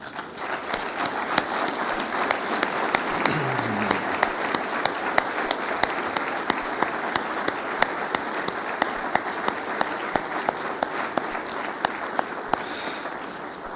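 A church congregation applauds loudly and steadily for the whole stretch, dense clapping from many hands with a faint voice briefly rising in the middle.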